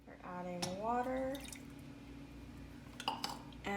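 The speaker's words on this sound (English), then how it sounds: "We're adding water" Water is poured into a pan for a sugar syrup when making lemon tarts, a short trickle with a rising pitch followed by a few scattered drips and clinks in a quiet kitchen.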